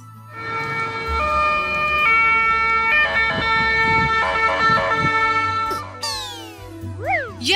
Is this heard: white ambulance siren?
yes